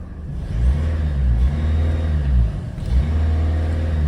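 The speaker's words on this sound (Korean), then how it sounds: "엔진 소리 양호한 모습 확인하셨습니다" A parked Mercedes-Benz CLA, a fuel-efficient diesel, revs repeatedly at idle, its engine note rising and falling in a few swells before steadying, loud and close with no talking.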